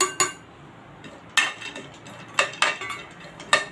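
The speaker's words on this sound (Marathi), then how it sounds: "इथे आपण थोडंसं तूप घातलेलं आहे याच्यामध्ये आपण ड्रायफ्रूट्स आहेत ते भाजून घेणार आहोत त्याला तुपावर परतून घेणार आहोत" Cashew, almond and pistachio pieces are stirred in ghee in a pan, with sharp metallic clinks of utensil on pan in scattered bursts over a quiet background.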